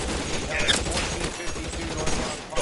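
Enemy gunshots crackle in a shootout in LA Noire Remastered, dense rapid fire with sharp cracks layered over a loud rumbling backdrop, while a person talks underneath.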